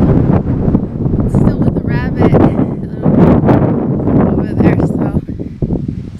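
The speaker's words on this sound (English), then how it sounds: "it's so windy" Strong wind buffets the microphone in loud, continuous gusts, with a person talking over the roar throughout.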